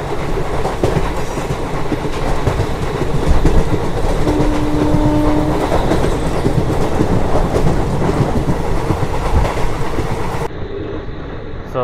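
Express train barrelling through a platform at speed on the main line at Akividu, a loud continuous roar and rumble with rattling wheels close by, easing slightly near the end.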